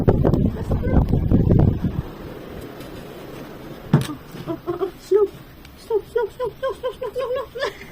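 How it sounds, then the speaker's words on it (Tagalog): Strong wind outside in snowy weather rushes as a loud, rumbling gust for about two seconds, then drops away while voices talk in short bursts over a quieter background. "Ang lakas ng hangin sa labas"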